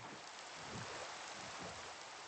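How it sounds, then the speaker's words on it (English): Soft, steady hiss of rain falling in the Minecraft video game, a constant faint patter with no voices. "It's raining."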